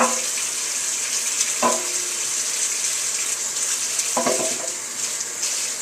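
Carrots rinsed under a running kitchen tap: a steady, close stream of water hissing into the sink, broken by a few knocks and clatters as the carrots are handled.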